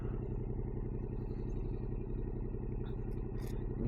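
A 2023 Yamaha Tenere 700 motorcycle with new suspension rumbles steadily at close range, a continuous low engine throb with faint clatter throughout the short stretch.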